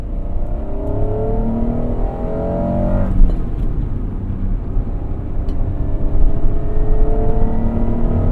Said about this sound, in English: the induction noise you get when you downshift